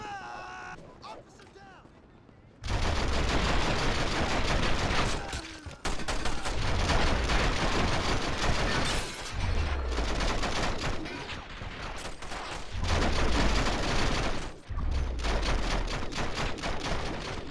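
Heavy gunfire crossfire from The Matrix: Path of Neo on PC, dense sustained bursts of shots and booming blasts filling the scene loudly, broken by brief lulls, with someone talking over the action.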